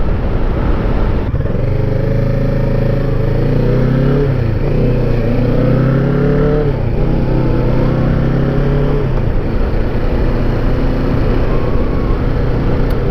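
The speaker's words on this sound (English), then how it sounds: "this bike is actually pretty darn good for these rougher secondary roads" A 2020 Kawasaki Ninja 650 ridden on rough secondary roads at around 45 mph: a loud, steady engine drone with rising and falling revs across gear changes, heavy wind rush throughout.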